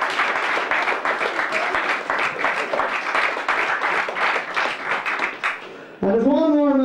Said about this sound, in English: We have to give a big round of applause here.